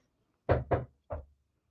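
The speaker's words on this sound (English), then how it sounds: "knocking on the door" Three knocks on a door, two quick raps followed by a short pause and a single last knock, close and clear against a quiet room.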